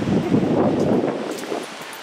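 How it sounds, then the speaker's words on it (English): Gusty wind buffets the microphone on a fishing pier with a rough, low rumble and rustle, strongest at first and easing slightly toward the end. "A little windy."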